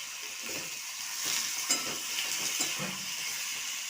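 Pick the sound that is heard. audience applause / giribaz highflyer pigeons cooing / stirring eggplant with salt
stirring eggplant with salt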